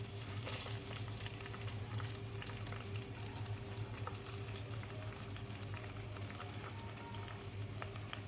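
Sliced onions fry in hot ghee in a pan, giving a soft, steady crackling sizzle with scattered tiny pops, faint and continuous, with no talking.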